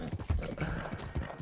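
Horse hooves in Red Dead Redemption 2, a fast rhythmic clip-clop of galloping with quick repeated beats, fairly quiet and steady, without voices.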